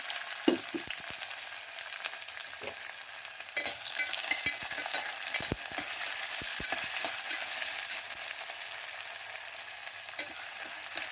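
Onions and green chillies fry in a pan for brown rice khichdi, a continuous bright sizzle with scattered crackles and stirring knocks, close and unaccompanied by talk.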